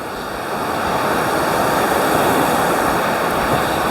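Steady, dense roar of rushing water from a waterfall in Wales, running high after heavy flow, continuous and loud without any voices.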